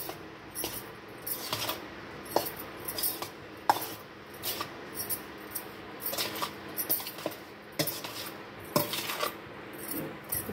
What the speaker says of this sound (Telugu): వేడన్నంలో ఇలా పసుపు ఉప్పు కరివేపాకు వేసుకుని కలుపుకోవాలి.